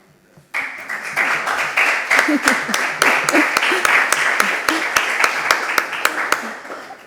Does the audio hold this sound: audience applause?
yes